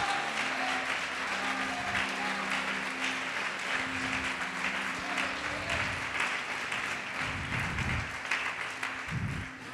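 A church congregation applauds in steady, sustained clapping that fills the room, with a held musical tone running underneath and occasional low thumps near the end.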